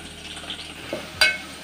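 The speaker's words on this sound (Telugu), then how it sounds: "ఇందులోనే ఒక ఉల్లిపాయ మొత్తం కట్ చేసుకున్నది కూడా వేసేద్దాం." A whole chopped onion frying in a pan for ridge gourd dal sizzles softly and steadily, broken by one sharp, louder crackling burst near the end, with no one speaking.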